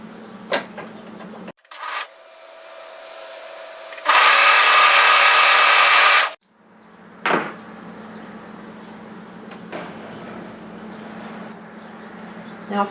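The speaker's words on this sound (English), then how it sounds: "then overlock those edges together." An overlocker stitches waistband edges together in one loud, even two-second whir. Quieter fabric handling, rustles and a few knocks come before and after it.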